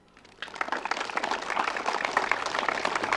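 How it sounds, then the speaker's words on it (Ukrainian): A crowd at an outdoor town-day festival in Myronivka, Ukraine, breaks into applause after a brief quiet moment, dense clapping that swells and keeps building steadily to the end. "вітаємо гучними оплесками"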